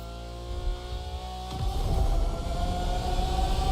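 A Lamborghini Aventador engine in the game The Crew Motorfest idles with a low hum, then bursts into loud, sustained revving partway through; no talk.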